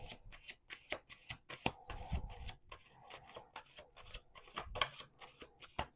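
A deck of cards is shuffled repeatedly, each riffle a rapid papery flutter, close and fairly quiet, in a steady rhythm.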